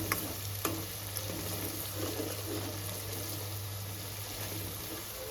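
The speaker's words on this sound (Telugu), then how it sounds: "ఉల్లిగడ్డ బాగా ఫ్రై చేసుకోవాలండి" Onions frying in a pan for a Telugu fish curry, a steady close sizzle with occasional stirring clinks and a constant low hum underneath, no voices.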